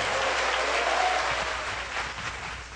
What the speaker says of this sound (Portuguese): Se você entendeu mesmo, aplauda bem forte, que coisa boa.